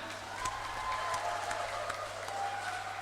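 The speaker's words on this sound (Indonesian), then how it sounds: "Sekali lagi tepuk tangan yang keras." A graduation ceremony audience claps for its lecturers in a hall. The applause is steady and sustained, a moderately loud wash of many hands at middle distance, with no talking over it.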